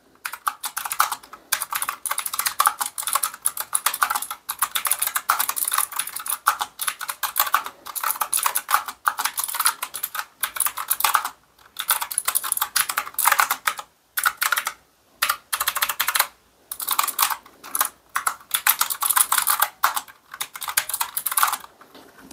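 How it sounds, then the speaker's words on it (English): Rapid, continuous typing on an AULA F2088 typewriter-style mechanical keyboard with blue switches, crisp loud clicky keystrokes in irregular bursts with brief pauses, close up and with no voices. "I got a Word document open, so I'm just going to start typing."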